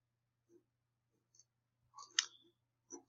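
A computer mouse gives several small, crisp clicks at uneven intervals, close and quiet, with one slightly louder double click near the middle and silence in between.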